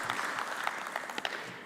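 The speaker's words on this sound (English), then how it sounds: "Let's do that with a big round of applause." A small group at a climate change and sustainable development council meeting gives a brief, fairly faint round of applause, with scattered individual claps that taper off.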